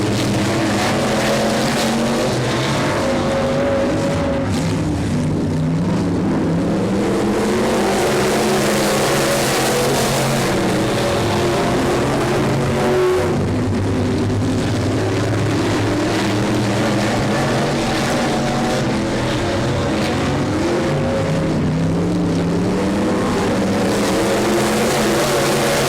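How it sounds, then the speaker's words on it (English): Race cars roaring around a track in a close three-way fight for the lead, engines droning loud and steady throughout with rising and falling pitch as they pass, no talk. "Three cars battling for the lead with 6 laps to go."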